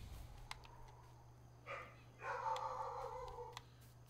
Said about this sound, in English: He's barking at someone outside.